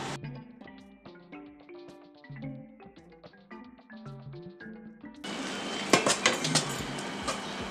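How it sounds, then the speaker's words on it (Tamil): Red rice flour and water are stirred in a pan for idiyappam dough, with a spoon clinking and scraping against the pan in quick, uneven taps, then a louder rough scraping and sizzling toward the end. "சேர்த்துட்டே கிளறணும்."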